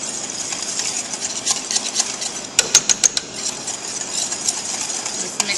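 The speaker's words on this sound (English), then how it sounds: "Mix that up" Spoon stirring cinnamon and 1/4 teaspoon of vanilla together in a mixing bowl, a steady close scraping swirl with a brief run of sharper taps against the bowl midway, no talking.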